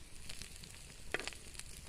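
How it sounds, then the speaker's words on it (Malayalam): Dried fish fries in a clay pan with a soft, steady crackling sizzle and a few sharper pops, close up and quiet, with no voices. "മൺതവിയിൽ ഉണക്ക് വറുത്ത്"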